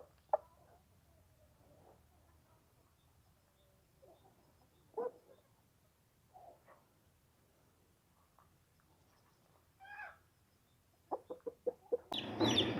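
Chickens cluck softly in scattered calls, some farther off, ending with a quick series of louder clucks and a burst of noise close by.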